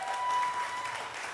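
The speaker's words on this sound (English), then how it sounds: "Will you give both Dominique and Madeline a big round of applause?" A short burst of applause from a group, steady clapping over a faint tone, tapering slightly toward the end.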